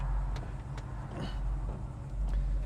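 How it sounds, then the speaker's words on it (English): A 1967 Chevrolet Camaro engine idles steadily with a low, continuous rumble, held at an even level throughout. "We just started the car."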